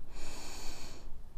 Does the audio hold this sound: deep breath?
yes